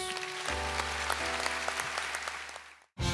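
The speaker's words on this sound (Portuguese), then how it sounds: "Aplaude Jesus" A congregation applauds warmly at a Catholic community worship service, a dense, steady wash of clapping over a low hum that carries on for nearly three seconds before cutting off abruptly.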